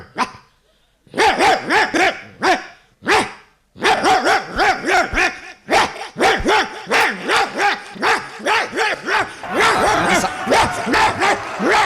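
A man on a comedy stage voices a dog, letting out a long run of loud, rhythmic barks and yips in close succession, imitating a politician giving a speech.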